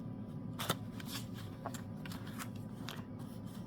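Scissors snipping through junk mail paper, a series of short crisp cuts spaced irregularly over a steady low background hum, close and fairly quiet.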